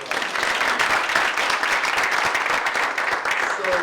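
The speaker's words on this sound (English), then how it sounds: "give them a round of applause" An audience applauds steadily and fairly loudly throughout a community kickoff event for the United Way of Greater Plymouth County's 100-year anniversary, a dense, sustained clapping with no voices standing out.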